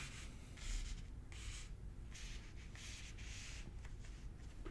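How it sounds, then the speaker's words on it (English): Tarot cards are slid and rearranged across a tabletop in a series of soft, close swishing rubs, separated by brief pauses. "Rearrange these cards a little."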